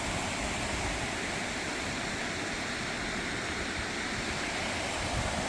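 Clear, cold stream water flows over a path in Iceland, a steady, close rushing wash that stays constant and loud throughout with no voices.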